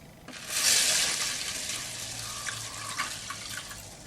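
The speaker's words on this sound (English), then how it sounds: "put in a whole stack of water and soak them overnight" Water runs into a container of mung beans being set to soak, a broad rushing pour that starts loud, then settles into a steadier trickle with small splashes, heard alone with no talking.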